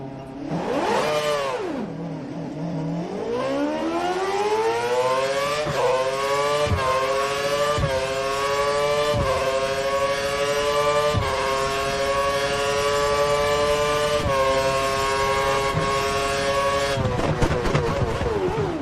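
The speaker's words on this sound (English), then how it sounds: "Head down the track, accelerating past 160 miles per hour, then brake so that you come to a complete stop in the designated area" Formula 1 car in the F1 2013 video game at Yas Marina, Abu Dhabi, with engine locked to lean: a loud, continuous engine scream rises steadily through quick gear shifts, then drops sharply under braking, running alone with no talk.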